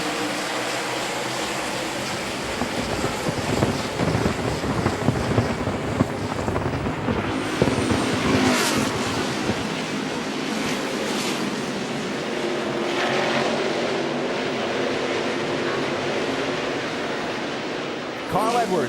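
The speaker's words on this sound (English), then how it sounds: "Now green flag. The NASCAR Nationwide Series is racing at Road America." NASCAR Nationwide Series race cars roar off at the green flag at Road America, a dense wash of engine noise with rising surges and passing sweeps, while a commentator talks over it.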